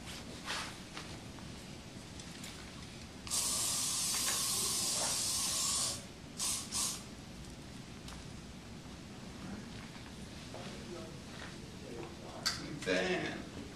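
Hairspray hisses onto hair during a classic chignon bridal styling, one long burst of about three seconds followed by a few shorter puffs, close and crisp.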